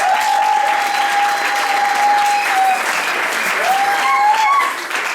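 A church congregation applauds steadily for a woman being honoured, a dense, continuous wash of clapping from many hands filling the room at full volume throughout, with a sustained tone running beneath it and faint background voices mixed in.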